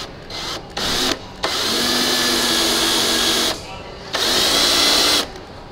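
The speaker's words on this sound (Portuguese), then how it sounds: "A broca escariadora, que dá muito jeito para nós escondermos sempre quando estamos a fazer um trabalho" A countersink drill bit whirs into wood while building a wooden cart, in several sustained bursts of high motor whine with short pauses between, loud and close.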